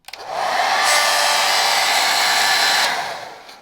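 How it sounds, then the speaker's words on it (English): A basic hair dryer with a fault blows with a steady, loud whir and a slightly harsh, rattly edge, running for a few seconds before cutting off. "I ended up getting a very basic Amazon hairdryer, which kind of has done the trick. But now it's making this noise."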